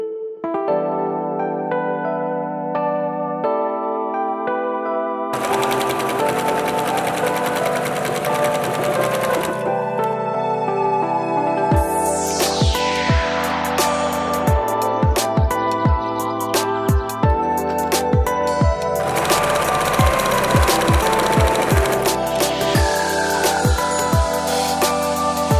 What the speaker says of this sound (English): sewing in a zigzag pattern